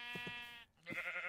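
Sheep in the video game Minecraft bleat twice in quick succession, short wavering cries, clear and close, with no talk over them.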